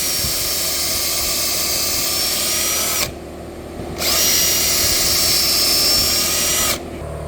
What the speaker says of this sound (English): I just went to Harbor Freight and bought a air chisel, and then we'll work on it with that.